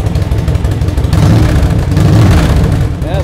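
A Victory V92C motorcycle with a 92 cubic inch V-twin engine runs loud and close, its low rumble steady and swelling into heavier revs near the middle and end.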